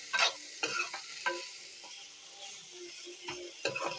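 Tinda (apple gourd) curry is stirred in a frying pan, with several scraping, clacking spoon strokes over a soft, steady sizzle and no talking.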